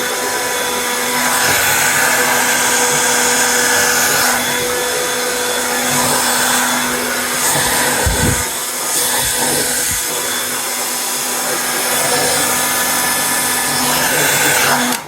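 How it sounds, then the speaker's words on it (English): A hair dryer blows steadily at close range while hair is blow-dried at home after being dyed blue, a continuous loud whooshing drone running the whole time with brief shifts in airflow. "gonna blow dry this"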